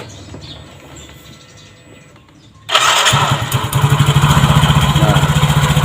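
A motorcycle engine is started for an oil circulation check, a quiet background before the engine catches sharply and settles into a loud, close, pulsing idle.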